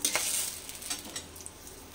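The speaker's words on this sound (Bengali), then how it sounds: "তেলের মধ্যে আমি কালো জিরে ফোড়ন দিয়ে দিচ্ছি।" Black cumin seeds and a bay leaf sizzle softly in hot mustard oil, a brief steady crackling hiss with faint scattered pops and no talking.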